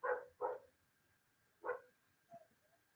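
A house dog barks three times at a distance, two quick barks followed by a pause and a third, then a softer short yelp. The barks are faint against a quiet room, with no one talking.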